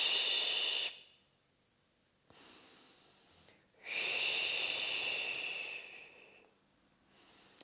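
Close, hissing breaths in and out during a Pilates ball exercise. Long airy exhalations alternate with quieter inhalations in a slow, steady rhythm, with no talk.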